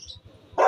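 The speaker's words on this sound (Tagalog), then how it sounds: "Ingay pa yung aso ko." A small dog gives a short, sharp bark, close by and loud, after a moment of quiet.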